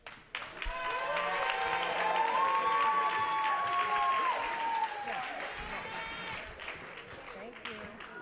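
Audience applause with some cheering for a graduating cohort of a women's leadership institute at a conference celebration, a dense sustained wave of clapping that swells quickly, holds for several seconds, then tapers off, with voices mixed in.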